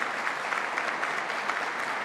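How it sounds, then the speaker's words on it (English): Audience applause fills the room for the host at a university event in Western New York, a dense, steady wash of clapping that holds at an even level for two seconds with no voices over it. "let's give another round of applause to our host here today"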